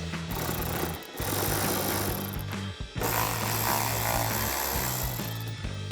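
A power tool unscrews a bolt tucked behind the pulled-back fender liner of a 2024-2026 Mustang, giving loud, close bursts of buzzing, rattling impact with two short pauses between them.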